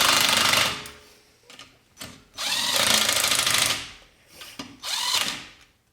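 A small cordless impact wrench spins lug nuts onto wheel studs while a tire is mounted by hand, firing in three loud ratcheting bursts of roughly a second each, with short pauses between them.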